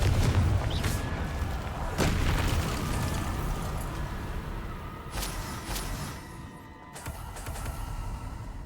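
Repeated Confringo fire-blast spell explosions in Hogwarts Legacy, loud booming bursts at intervals over a rumbling game soundscape.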